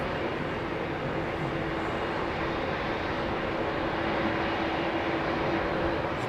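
A parked aircraft at London Heathrow Airport gives off a steady, loud, unbroken drone of engine and airport noise that holds even throughout, with no voices.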